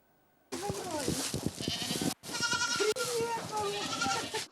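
Goats on a family farm bleat several times in close, wavering calls, with a voice speaking over them.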